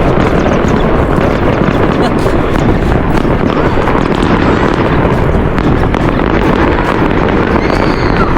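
New Year fireworks in Greenland crackle and boom in a loud, unbroken barrage close by, with excited voices talking over the din.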